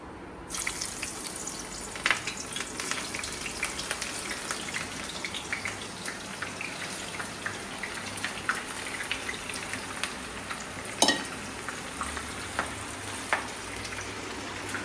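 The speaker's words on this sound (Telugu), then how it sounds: "ఇప్పుడు మనము ఆనియన్స్ వేసి డీప్ ఫ్రై చేసుకుందాం బ్రౌన్ కలర్ వచ్చేదాకా" Onions deep frying in hot oil for a chicken biryani, a steady close crackling sizzle running throughout, dotted with sharper pops and occasional stirring clinks.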